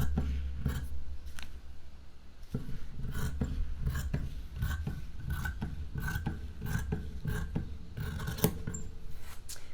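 Scissors cut across fabric to trim a tote bag during sewing, making a steady run of close, crisp snipping and rasping strokes with no voices.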